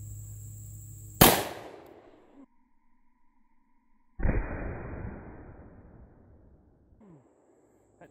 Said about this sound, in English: Shoot two of the 44 mags at it.